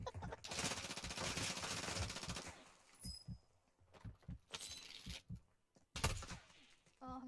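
Bursts of video game gunfire including sniper shots, a dense rattling volley at first, then scattered sharp cracks and thumps separated by quiet gaps, fairly faint overall.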